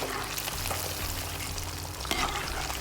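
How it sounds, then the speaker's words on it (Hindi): Fish frying in oil in a pan for Lahori fried fish gives off a steady, close sizzle with light crackle throughout, then a short scrape or stir near the end. "जब ये एक तरफ से ज़रा आपको फील हो के पक गई है तो फिर आप इसकी साइड में फ़िश फ्राई हो चुकी है।"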